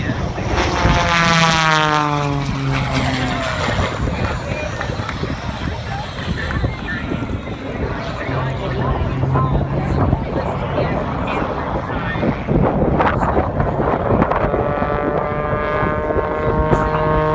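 Sean D Tucker's aerobatic propeller airplane flies practice maneuvers and loops at the 2017 Cleveland National Airshow, its engine droning loud and continuous with rising and falling pitch as it tumbles, while a commentator talks over it.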